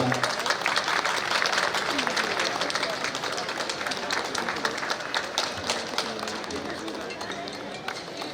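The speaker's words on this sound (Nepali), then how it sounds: "सबैले ताली बजाइदिनुमा हार्दिक अनुरोध गर्छौँ" A crowd applauds steadily at a badminton tournament opening, a dense wash of clapping that holds for several seconds before easing slightly.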